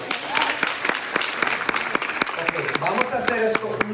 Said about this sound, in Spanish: ahí está, aplausos.